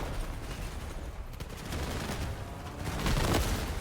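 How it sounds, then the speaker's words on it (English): Rapid-fire machine guns from vehicles in the Crossout combat game, a dense continuous rattle of gunfire with a louder burst near the end, no talk. "So these rapid fire machine guns are perfect for that."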